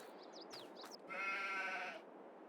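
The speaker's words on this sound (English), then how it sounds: "And the sheep are loving life in their new open pasture." Sheep in an open pasture in Farming Simulator 22 give one clear, sustained bleat over a quiet outdoor ambience, with brief bird chirps just before.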